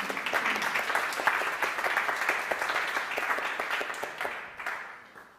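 Audience applause welcomes a speaker onto the stage at a Monday devotion event, a steady wash of many hands clapping that holds for several seconds and then thins out toward the end.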